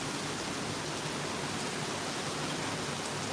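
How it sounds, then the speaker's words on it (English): Hurricane Ian wind and rain lashing a parked car outdoors at Disney World, a steady, loud roar of rain and gusting wind that fills the clip with constant broadband hiss and no voices. "you guys can see the wind and the rain ripping off the car right behind me. And as long as you guys can hear it"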